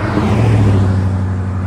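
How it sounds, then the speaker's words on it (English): A car on a road beside a highway, a loud steady engine hum and tire roar close by that stays strong for the whole short stretch. "Here we have a car and one is coming."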